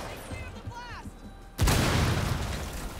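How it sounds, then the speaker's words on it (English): A frag grenade blast erupts in Rainbow Six Siege, a sudden loud boom after a quieter moment, followed by a sustained rumbling wash of debris and noise. "Throwing frag grenade."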